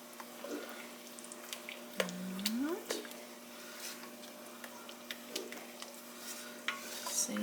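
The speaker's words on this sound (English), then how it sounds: "we're going to give that a stir" A spoon stirs seasoned food, with salt and garlic powder just added, in a pot: quiet scraping and scattered light clinks against the metal, faint and intermittent over a low background hum.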